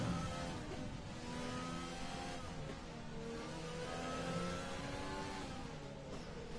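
Racing cars' engines in a racing video game drone and rev continuously, a dense layered roar with shifting pitch from several cars, steady and fairly loud throughout.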